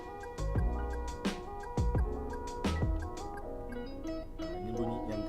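Second turn signal tone of a Perodua Ativa turbo, clock-like ticks sounding at a slow, even pace in the cabin, fading into softer tones toward the end.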